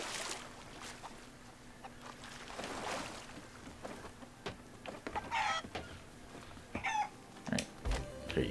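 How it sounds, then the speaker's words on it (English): A red speckled chicken clucking in the Sea of Thieves video game, scattered short clucks over a low background of ambient game sound and water. "Red speckled chicken sold."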